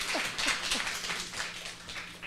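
A church congregation claps for the pastor's wife: a dense, steady wash of many hands clapping at moderate volume for a couple of seconds, with no voice over it.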